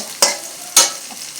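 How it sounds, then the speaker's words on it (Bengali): Onions dropped into two spoons of hot oil in a pan, giving two sharp bursts of sizzle over a steady hiss. "দুই চামচ তেলের মধ্যে পেঁয়াজ দিয়ে দিব পেঁয়াজগুলো একটু ভেজে নিব"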